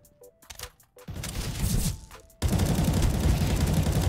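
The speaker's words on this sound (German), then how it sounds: "Da hat doch jemand drauf geschossen, oder?" Rapid bursts of gunfire from the video game Counter-Strike: Global Offensive, starting as sparse clicks and shots, then swelling into dense, loud sustained automatic firing that fills the end of the clip.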